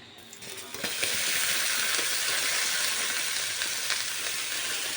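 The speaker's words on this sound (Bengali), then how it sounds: "তেল গরম হয়ে গেছে এখন এর মধ্যে দিয়ে দেবো কুচুনো পেঁয়াজ" Chopped onion dropped into hot oil in a wok bursts into a loud, steady sizzle after a brief quiet start, frying continuously up close with crackling spatter and no talking.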